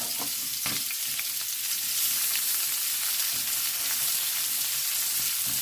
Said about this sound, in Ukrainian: І кладемо на сковорідку перчик. Теж на великому вогні 10 хвилиночок.